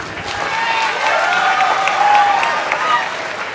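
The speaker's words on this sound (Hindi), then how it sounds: "हजरात, बिलाल को ऐसे बगैर तालियों के रुखसत मत कीजिए।" Audience at a mushaira (Urdu poetry recital) at the Aurangabad Education Expo applauds a departing poet, a steady sustained wash of clapping from a hall crowd, fairly loud throughout.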